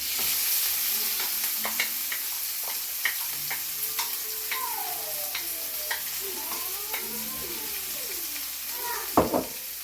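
Onions frying in oil in a pot, a quiet steady sizzle broken by scattered stirring clicks and scrapes, with a few sharper knocks near the end.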